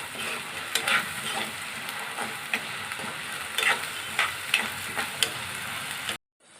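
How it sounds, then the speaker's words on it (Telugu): Green peas fry in oil in a kadai, a steady close sizzle broken by sharp pops and spatters, alone for about six seconds before cutting to silence. "ఇప్పుడు బఠానీలు వేయించేద్దామన్నమాట"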